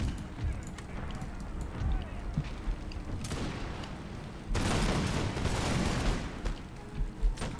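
Musket volleys crackle and boom across a battlefield in Empire: Total War, layered gunfire rolling continuously and swelling louder in the second half, with a voice speaking over the din.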